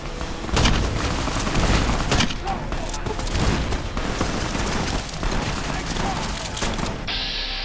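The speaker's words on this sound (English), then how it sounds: "I placed a bus explosion" Chaotic battle in a Fallout game mod after a bus explodes: dense, continuous gunfire and booming blasts crowd together in a loud, unbroken barrage.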